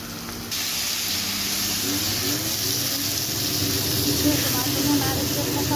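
Tomatoes sizzle in a hot frying pan with a steady, bright hiss that jumps up when they go in and then holds at an even level for several seconds.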